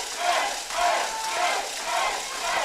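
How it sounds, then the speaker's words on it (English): Wrestling arena crowd at a tag team match roaring for the Guadalupe brothers, a loud dense wall of cheering and yelling that swells in repeated waves. "the crowd's red hot for the Guadalupes"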